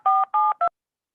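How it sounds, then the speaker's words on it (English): Three telephone dialing tones sound as someone joins a call during an Erev Shabbat service, two longer beeps and a short one in quick succession, clear and loud, then silence. "Someone's just making a phone call."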